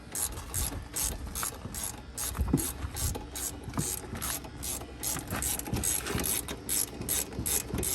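A hand ratchet loosens the top bolts of a BC Racing coilover, fast continuous clicking of the pawl in quick bursts with brief pauses, close and clear, with no voices.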